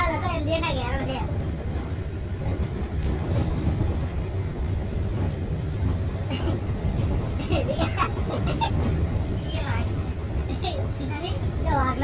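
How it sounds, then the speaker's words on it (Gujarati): A mini railway train runs along its track near Dwarka, a steady rumbling, rattling run with faint clicking that continues the whole time under people talking nearby. "मिनी रेलवे है मिनी रेलवे"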